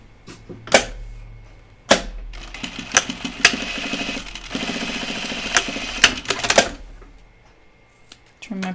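A sewing machine with a single needle stitches across the bottom ends of a cardigan, running in short, loud bursts with sharp clicks and pauses between.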